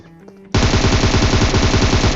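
Automatic gunfire in PUBG Mobile, a sudden loud burst of rapid evenly spaced shots that cuts in after a quiet moment and runs continuously to the end.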